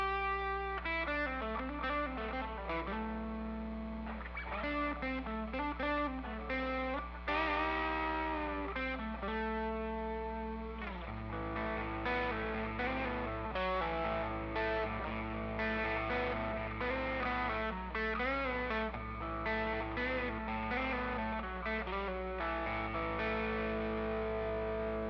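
Electric guitar played with the fingers through an MXR Timmy Mini overdrive pedal, notes and chords ringing with a gritty, sustained distorted tone and a steady low hum beneath.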